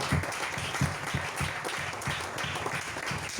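A church congregation applauding and cheering to acclaim the king of kings, a continuous wash of many hands clapping at moderate distance with no clear talk on top.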